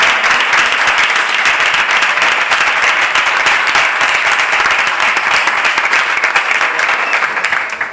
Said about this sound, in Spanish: bienvenido y un aplauso, compañero